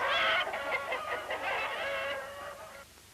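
Hens on an egg farm housing about 8,000 birds, a dense chorus of overlapping clucks and squawks from many chickens, close and loud at first, then thinning out and fading near the end.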